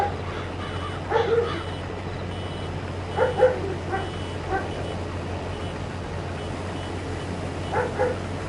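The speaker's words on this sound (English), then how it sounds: "Aw, my little puppy. I love it when she barks." A small dog barks in the Farming Simulator 22 video game: three short, faint bursts of yips spaced apart over a steady low engine-like hum.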